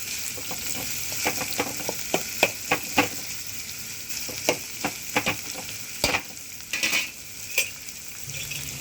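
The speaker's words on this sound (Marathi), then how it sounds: "कांदा लाल करायचा, कांदा लाल होईपर्यंत फ्राय करायचा आहे।" Onions frying in a pan until browned for a traditional Konkani kadve val birde, with a steady close sizzle and repeated scraping stirs of a spoon against the pan.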